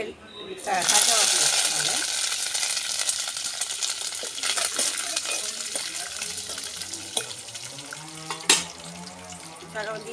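Dried red chillies and curry leaves sizzling in hot oil with mustard seeds, a bright steady crackle that starts suddenly and fades gradually, with occasional sharp clinks of a utensil.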